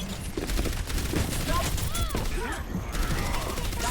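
Rapid gunfire strikes the floor in Overwatch, a dense continuous rattle of shots with whizzing ricochet-like sweeps mixed in, loud and sustained across the whole stretch.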